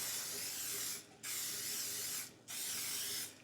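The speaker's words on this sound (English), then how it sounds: "I'm using just a canola oil cooking spray." Three hissing bursts of canola oil cooking spray onto a cake pan, each about a second long, separated by short pauses, close up.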